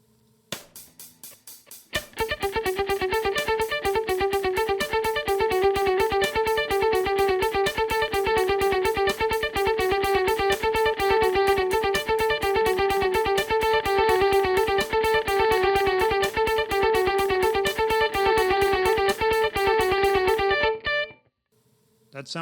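Electric guitar notes at 126 beats per minute run through a dotted eighth note delay, each pick echoed into a steady, galloping repeating pattern that plays continuously and loud for about twenty seconds before cutting off.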